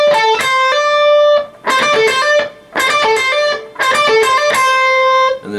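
Short electric guitar lick with a hammer-on, played as a few quick bright phrases with brief gaps between them and no talking.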